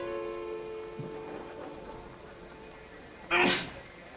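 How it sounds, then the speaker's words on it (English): A single sharp, loud sneeze from a video game character in a World War I trench setting, bursting out suddenly over a quiet ambient background with faint tones. "Nothing like a good sneeze."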